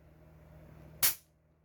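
A single sharp metallic snap of a gun being dry fired with the magazine in, loud and close, alone in an otherwise quiet room.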